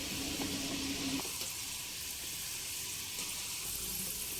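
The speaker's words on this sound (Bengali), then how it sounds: "এইভাবে একটা হাতার মধ্যে নিয়ে আস্তে আস্তে খুব সাবধানে তেলের মধ্যে দিতে হবে মিডিয়াম ফ্লেমে ডালগুলোকে ভাসতে দিতে হবে" Chana dal bubbles and fries in hot oil over a medium flame, giving a steady, fairly quiet hiss that runs unbroken, with a few faint clinks of the ladle as the lentils are stirred.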